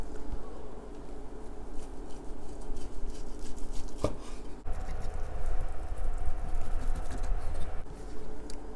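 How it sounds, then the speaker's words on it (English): A knife chops through braised kimchi pork ribs, cutting against the bone in a kitchen; a steady run of fairly loud, close knocks on the board continues throughout, with one sharper crack midway. "Let's cut these ribs. Cut against the bone, this way, not in the middle."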